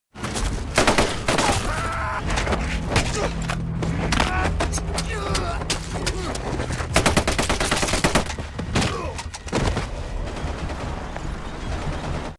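Rifle fire and machine-gun bursts crack from German soldiers in a Finnish war film, rapid clustered shots layered densely through the scene with a narrating voice running over the barrage.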